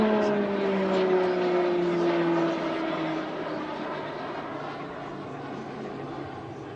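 A Pilatus PC-21 turboprop trainer flies past at an air show, its strong propeller drone sliding downward in pitch as it passes and recedes, loud at first then fading to a steadier hum.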